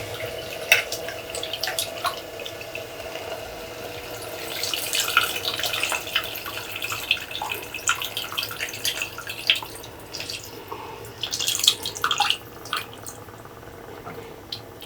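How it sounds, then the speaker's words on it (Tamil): Tamarind water is poured into a pan of fish curry, a close, continuous trickle and splash that swells and fades in short surges. "இப்போ நம்ம இது கூட நாம் கரைச்சி வச்சிருக்க புளி கரைச்சலையும் இதில் சேர்த்துக்கலாம்."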